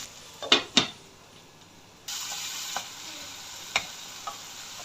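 Tomatoes with salt and turmeric sauté in a pan, giving a soft steady sizzle broken by a few sharp clacks of a utensil stirring against the pan, close and fairly quiet.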